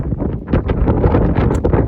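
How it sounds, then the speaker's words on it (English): Loud gusting wind buffets the microphone in uneven bursts on a wet, windy day by a causeway in South Uist, Outer Hebrides, with a rough rushing noise that could include rain. "Very wet, very windy."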